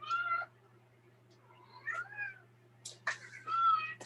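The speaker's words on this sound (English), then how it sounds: "I got a crying kitty." A cat meowing at a door, several drawn-out, plaintive meows in separate bursts, close and clear over a faint low hum.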